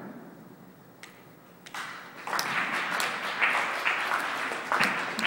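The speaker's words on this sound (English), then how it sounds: "we need a big round of applause for our last comedian of the night." An audience at a comedy night breaks into applause after a quiet moment, the clapping swelling quickly to a loud, sustained roar that holds to the end.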